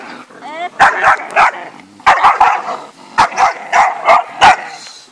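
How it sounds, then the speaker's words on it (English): Many dogs at an elephant nature park bark in loud, repeated bursts close by, with yips and a brief whimper. People talk between the barks. "So many dogs."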